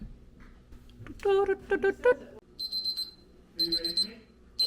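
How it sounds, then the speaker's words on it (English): An electronic timer beeps in short repeated bursts, a few rapid beeps then a pause, with some quiet room noise and brief voice-like sounds before. "my timer has gone off"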